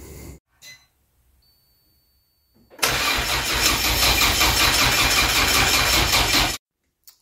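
A Citroen Saxo VTS Turbo engine cranks and fires after faint earlier attempts, then runs loud and steady close by for about four seconds before cutting off abruptly, with no voices.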